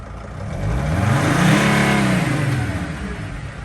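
A 2005 Freightliner Sprinter van with a 2.7L diesel engine, showing a P0299 underboost fault, revs up and eases back down in one smooth, loud swell, heard close with no talking.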